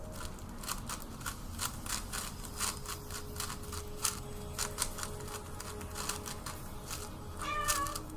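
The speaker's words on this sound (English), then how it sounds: "That was a crazy meow" A cat lets out a loud, drawn-out meow near the end, following a long run of rapid, close clicking and rubbing sounds.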